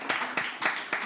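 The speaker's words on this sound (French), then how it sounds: "On le raccompagne avec des applaudissements." Studio audience clapping on a French television show, a steady rhythmic beat of claps roughly four times a second, fairly close with no talk.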